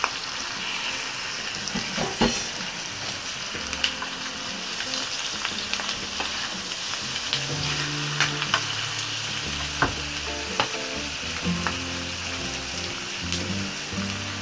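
Squash and tomatoes sizzle and fry steadily in a pan for pinakbet, a constant crackling hiss with scattered pops and the occasional scrape of stirring, no voices.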